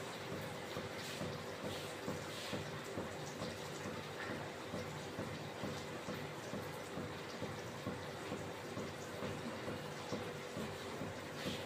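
Cold water pouring or running steadily from a tap into a container in a home kitchen, a continuous broadband wash with a faint steady hum beneath and no talk.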